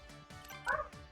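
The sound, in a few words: dog barking outside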